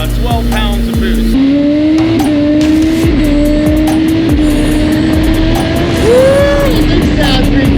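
A turbocharged Kawasaki ZX-14R motorcycle with a stage 2 turbo kit, running on 12 pounds of boost, drones steadily at high engine speed, its tone rising and falling with a brief revving swell near the end, loud and close throughout.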